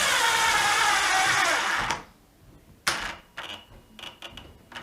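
A DeWalt DCD701 12V brushless drill bores into wood at full whine for about two seconds, then abruptly stops dead as it stalls, followed by a few short bursts of the motor trying again.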